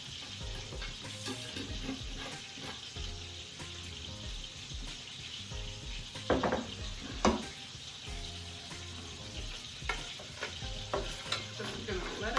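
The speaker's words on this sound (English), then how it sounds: "And I want this to saute for a while." Puerto Rican sofrito sautéing in a pan as the base for arroz con gandules, a dense continuous sizzle with repeated stirring scrapes and a few sharper clatters, close and steady throughout.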